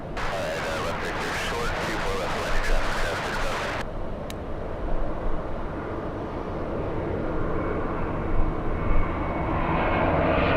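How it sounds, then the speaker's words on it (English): A JetBlue airliner flies low overhead on approach to LAX, a loud, sustained engine roar that swells and rumbles throughout, with a sharp change in texture partway through. "JetBlue 387 flying overhead, doing a side step a few moments ago due to it being a little close to the aircraft in front of it."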